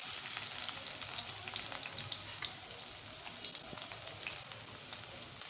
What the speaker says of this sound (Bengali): কেটে রাখা পেঁয়াজ, কাঁচামরিচ, ধনিয়া পাতার গোড়াগুলি সবগুলো দিয়ে এখন আমি সুন্দর করে ভেজে নেব